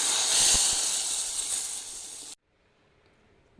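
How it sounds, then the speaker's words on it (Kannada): Hot ghee tempering with mustard seeds, dried red chillies, curry leaves and a pinch of asafoetida for a Mangalore cucumber buttermilk curry, giving a loud, close, steady hiss and sizzle that cuts off abruptly into near silence. "ಒಗ್ಗರಣೆ ಹಾಕ್ಬೇಕು."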